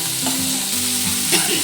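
Mushrooms sautéed over a low flame in a pan for mushroom pepper dry, with a steady close sizzle and the scrape of stirring now and then.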